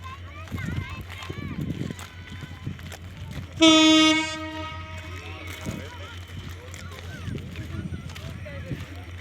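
A train at Narail railway station in Bangladesh sounds a loud, sharp horn blast lasting under a second, over a busy platform murmur of talking people and children.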